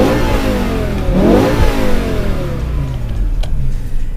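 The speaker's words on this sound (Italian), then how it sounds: "Sentite anche da ferma come canta questo motore." A BMW M5 E60 with its V10 engine and six-speed manual revs hard while parked, filmed from outside: a loud, rising wail that climbs sharply, then falls back toward idle with a rough, throaty rumble, close by and alone.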